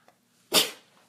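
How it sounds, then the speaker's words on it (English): A single sharp, explosive human sneeze close to the microphone, preceded by a faint breath and followed by quiet. "Anyway, you just sneezed on me."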